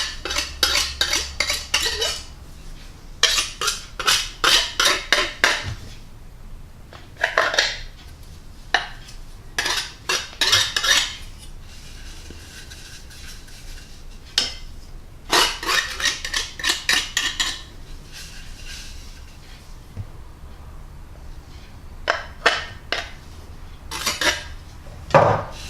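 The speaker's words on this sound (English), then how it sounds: "just use a knife to go around the edge" A knife scrapes around the pastry edge of an apple pie in its dish, trimming the overhang in a series of short, rhythmic metallic scraping bursts separated by pauses, close and fairly loud with no talking.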